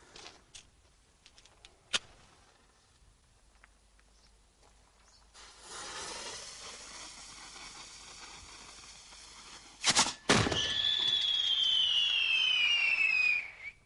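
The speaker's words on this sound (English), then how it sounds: "This is actually a firework mortar, and it forces out this cylindrical shell" Quiet stretch with a couple of sharp clicks, then a hissing rush and a loud bang as a firework mortar launches a cylindrical shell, followed by a long whistling hiss that fades.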